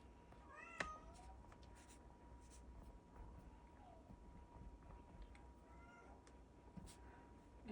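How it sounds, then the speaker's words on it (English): A small kitten meows faintly in the background, a few thin, rising cries scattered over several seconds, with light scratching of pencil on paper nearby in a quiet room. "You probably can hear Minion, our new little kitten, in the background meowing."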